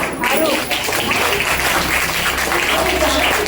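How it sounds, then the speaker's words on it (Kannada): Loud applause for children at a Sri Krishna Janmotsava celebration, sustained clapping from an audience that fills the whole moment with a dense, steady roar. "ಜೋರ ಚಪ್ಪಾಳೆ ಮಕ್ಕಳಿಗೆ."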